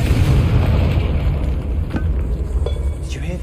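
Confringo blasting spell exploding in Hogwarts Legacy inside a tomb, a loud booming blast with a rumbling tail that fades out, followed by faint crackling debris.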